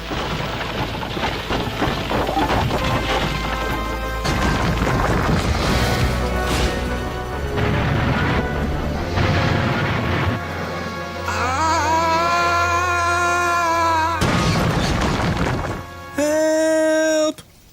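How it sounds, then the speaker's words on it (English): A loud, sustained crashing and grinding roar as an out-of-control steamer ship runs aground into sheds, with bursts of impact, followed by tonal whistle-like blasts near the end, no talking. "It was out of control and running aground straight into the sheds."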